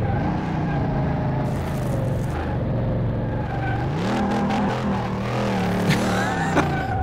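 A Dodge Charger races in Car Mechanic Simulator 2018: a continuous, loud engine drone revs up and down with shifting pitch throughout, with brief tyre-like squeals near the end and no talking.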